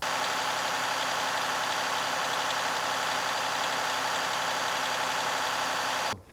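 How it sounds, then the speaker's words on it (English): A heavy diesel engine idles steadily with a constant low rumble and rattle, cutting off abruptly at the very end. "we're going to crank the truck back up and start running intake"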